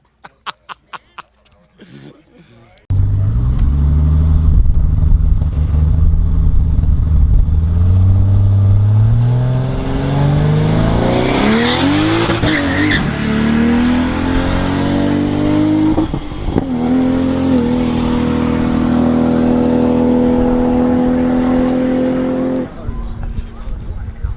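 After a few faint clicks, a 1000 crank horsepower Barra-engined race car roars to life nearby at a track day, revving hard with rising pitch through gear changes, loud and sustained for twenty seconds.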